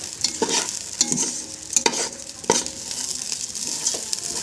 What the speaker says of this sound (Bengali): আস্তে দিয়ে এভাবে আস্তে আস্তে ভেজে নিতে হবে চাউলগুলো।